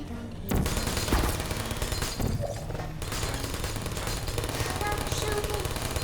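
Rapid bursts of turret gunfire from the video game Portal rattle on continuously after a sudden start, loud and dense, with game voices mixed in.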